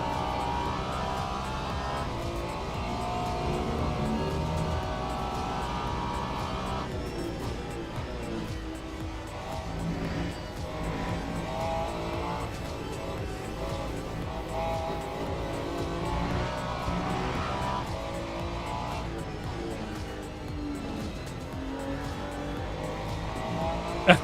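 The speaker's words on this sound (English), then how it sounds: "The tyres are complaining." Race car tyres squeal in a racing video game, a steady engine drone with squealing layered over it, loud and continuous throughout.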